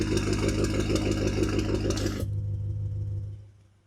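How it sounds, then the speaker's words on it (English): A BMW F90 M5 Competition with a valved titanium exhaust idles in Comfort mode, a steady low burble close by that drops noticeably quieter partway through and fades out at the end, with no talking. "This right here is going to be the normal idle in Comfort"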